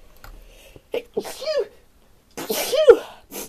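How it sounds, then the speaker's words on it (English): A person with a cold sneezes twice, a short sharp burst followed by a fuller, louder sneeze a moment later, close up in a quiet room with a brief breath afterwards. "That's the first time I've sneezed in ages"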